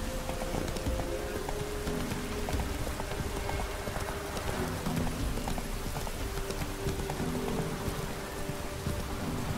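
Horse hooves clip-clop steadily as Geralt rides at a trot in The Witcher 3, a constant rhythmic patter beneath a dense bed of rain and ambient game noise, with no voices.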